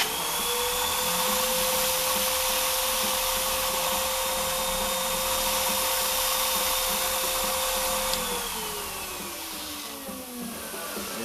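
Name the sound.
vacuum sucking water off vinyl record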